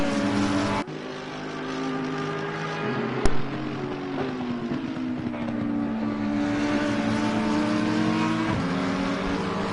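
Engine of an Audi GT race car in a racing game at a wet Imola, a sustained loud drone rising and falling in pitch through gear changes, with a sharp click partway through.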